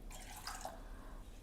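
Water is poured from a bowl into a pressure cooker, a brief, faint trickling splash against a quiet background with no talking.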